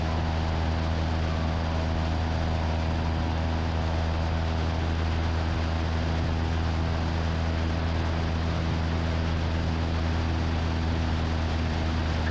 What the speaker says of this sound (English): You listen for it to kind of bog down, and you spin this back in a couple turns.